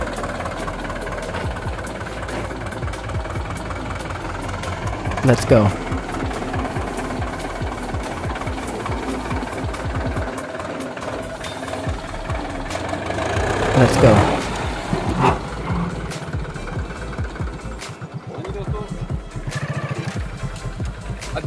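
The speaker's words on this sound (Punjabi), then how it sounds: "ਟਰੈਕਟਰ ਦੀ ਆਵਾਜ਼ ਵੇਖੋ ਕਿੰਨੀ ਪਿਆਰੀ ਹੈ ਜੀ" A tractor engine idles and runs with a steady mid-pitched rumble and knocking throb, rising briefly in two louder surges, while someone speaks over it.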